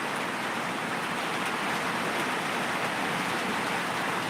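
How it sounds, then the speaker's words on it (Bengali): Steady rain falls continuously, an even hiss of drops on surfaces with no voices. "বৃষ্টি হচ্ছে আজকে"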